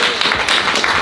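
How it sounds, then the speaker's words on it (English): A brief, dense burst of audience clapping for presenters after a Q&A session, loud and continuous. "Can we get another round of applause for our wonderful"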